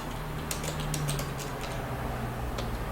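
Computer keyboard typing, quiet clusters of quick key taps over a steady room hum, irregular and close.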